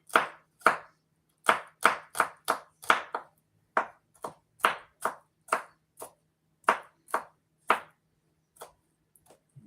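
Knife chopping garlic finely on a cutting board, about twenty crisp, close taps in quick clusters with short pauses, loud and clear against a quiet kitchen.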